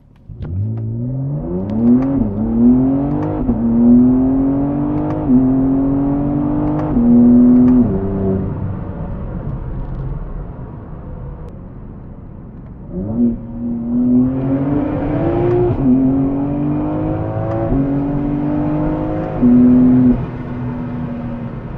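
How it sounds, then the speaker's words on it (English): A BMW M3 G80 fitted with a MAD single non-resonated midpipe revs hard in two long climbing pulls, each bouncing off the rev limiter, loud and close with a brief lull between them. "Bounced off the rev limiter there."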